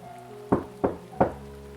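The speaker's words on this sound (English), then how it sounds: "I was just about to go to bed when there was another knock at the door." Three firm knocks on a door, evenly spaced and close, standing out alone against a quiet, low hum.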